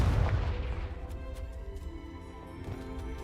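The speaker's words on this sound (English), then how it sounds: "Just smoked him with a Confringo." A Confringo fire spell bursts with a deep boom at the start in Hogwarts Legacy, then the low rumble decays over a few seconds beneath faint background game sounds.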